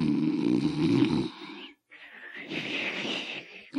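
A person asleep snores in long, rasping breaths, one loud drawn-out snore followed by a short gap and another wheezy snore, close and alone.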